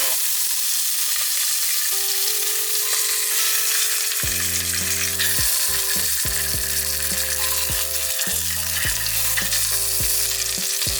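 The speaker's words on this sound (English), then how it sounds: "we sear the skin in a little bit of hot oil" Fish skin sears and sizzles in a little hot oil in a pan while preparing shoyu ramen, a steady close crackling fry throughout, joined partway by tonal clanks and musical accents layered over the sizzle.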